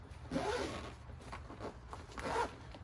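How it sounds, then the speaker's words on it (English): A zipper on an ice fishing tackle bag is pulled shut in a few quick, raspy strokes, close by and fairly quiet. "zip this thing shut,"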